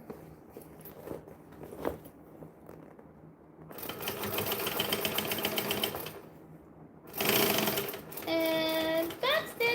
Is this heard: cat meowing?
no